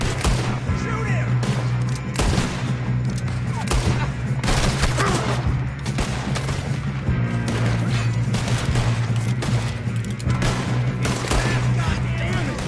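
Rapid gunfire from a chaotic shootout in Red Dead Redemption 2, dense overlapping shots cracking loud and close in quick bursts throughout, with shouted voices mixed among the blasts.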